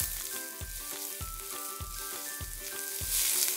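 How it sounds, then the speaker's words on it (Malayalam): Chopped onions sauté in a hot pan with a steady crackling sizzle, punctuated by rhythmic stirring strokes roughly every half second, close and alone without talk. "ഇതിലേക്ക് നമ്മൾ അരിഞ്ഞു വെച്ചിരിക്കുന്ന അണിയൻസ് ഒന്ന് ഇട്ടു കൊടുക്കാം. ചെറുതായിട്ട് വഴറ്റി"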